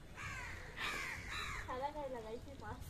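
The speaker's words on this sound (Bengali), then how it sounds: "ওরে কত কাক!" Many crows gather around fish and caw repeatedly in overlapping harsh calls at close range, with a person's voice mixed in among the cawing.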